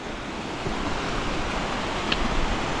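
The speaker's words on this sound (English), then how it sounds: "We got a bit of white water, a little bit of an obstacle." White water rushes in a steady, loud wash of broadband noise that holds without a break, with no voices.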